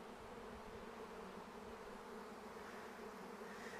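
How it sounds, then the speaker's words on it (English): A docile honeybee swarm clustered around its caged queen, bees clinging together in a heavy mass, gives off a dense, steady buzzing hum at close range that continues without a break. "Here we have pretty nice docile bees."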